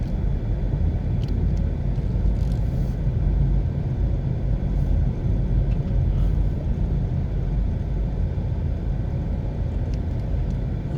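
Steady low road rumble of a car driving slowly and turning around near a gas station in May Pen, Jamaica, a continuous, even engine and tire drone with no voices.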